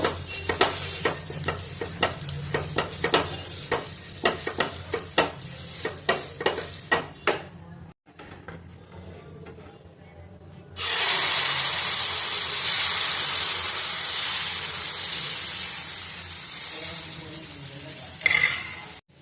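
Patishapta crepe batter hits hot white oil in a frying pan and breaks into a loud, steady sizzle after earlier scraping and stirring clicks, continuing close and even to the end.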